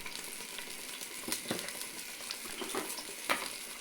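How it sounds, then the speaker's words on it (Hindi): Chili, turmeric and coriander powder frying with salt in a pan for beef paya, a soft, steady sizzle with a few light stirring scrapes, faint and close, with no voices. "और इस सब को अब हम मिला के पका लेंगे, फ्राई करेंगे"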